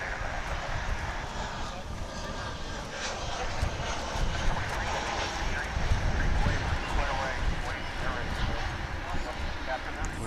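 Airliner engines at DFW International Airport before takeoff give a continuous broad roar with steady rumble, heard from a spotting position at moderate distance, with a voice talking over it.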